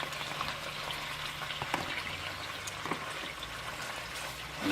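Chicken pieces sizzle steadily in hot oil for a noodle stir-fry, a dense continuous crackle with a few sharper pops, close and fairly quiet, with no voices.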